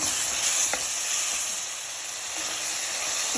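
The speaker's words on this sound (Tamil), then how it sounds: "தக்காளி நல்லா வதங்குங்க" Finely chopped tomatoes sautéing in oil for a Tamil fish curry give a loud, continuous hiss and crackle, with an occasional soft tap of the spoon and no talking.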